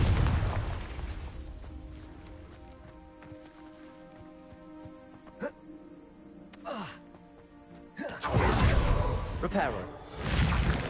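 A Confringo blasting spell goes off in Hogwarts Legacy, a sharp crack and whoosh bursting into a rumbling boom that swells near the end over a faint game music bed.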